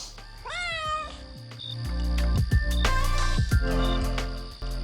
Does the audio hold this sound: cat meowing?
yes